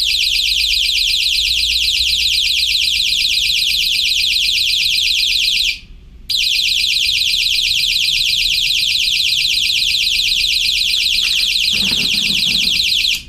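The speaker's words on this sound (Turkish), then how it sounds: "buradaki düğmeyle arkadaşlar kornamızın da yani sirenimizin de çalışmasını ayarlıyoruz" Electronic siren fitted as a horn wails loudly and continuously in a steady piercing tone, broken by one brief pause before resuming, with a faint low rumble near the end.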